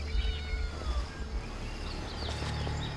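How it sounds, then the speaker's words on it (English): A small cat meows repeatedly near a shrine in the video game Genshin Impact, clear, close mewing calls over a low ambient game hum with no talking. "Oh, it's just a little cat."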